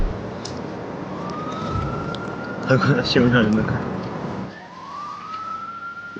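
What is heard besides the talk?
police siren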